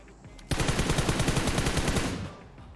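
Rapid automatic gunfire in the PUBG Mobile battle royale game, a loud close burst of evenly spaced shots lasting about a second and a half, then fading.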